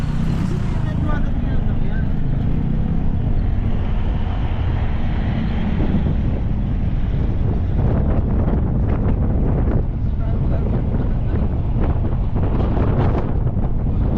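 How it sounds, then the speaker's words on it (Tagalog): Strong, constant wind roars and buffets the microphone at a cliffside lookout near Baler, a dense low rumble that does not let up; a voice is faintly audible beneath it. "Lakas ng hangin."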